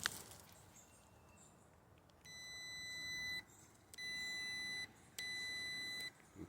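A multimeter set to continuity gives three sustained high beeps, each about a second long with short gaps, over faint background noise and a few handling clicks, while checking wires during air conditioning repair.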